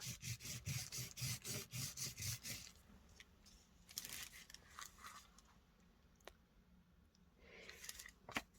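Dry soft pastel rubbed over textured paper on a pulled mixed-media piece, heard as a run of quick, rhythmic scratchy strokes up close, then sparser, quieter rubs and taps.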